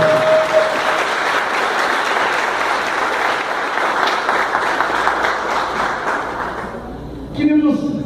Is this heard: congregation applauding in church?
yes